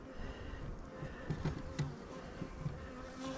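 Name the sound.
honey bee buzzing around hive frame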